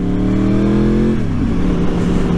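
A loud Yamaha R1 sport motorcycle engine revs up close, its pitch climbing as it pulls away from a stop, then shifting into a rougher, throatier note.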